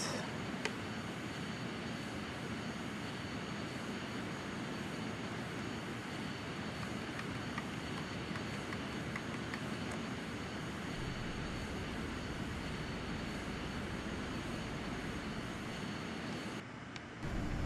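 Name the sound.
Rockwell X-31 jet engine in Flight Simulator X (video game)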